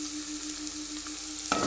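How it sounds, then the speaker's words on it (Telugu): Paneer fries in a pan with a constant close sizzle and a faint steady hum beneath, interrupted near the end by a sudden clatter. "మన పన్నీర్ కూడా మంచిగా సాఫ్ట్గా వేగిపోయింది"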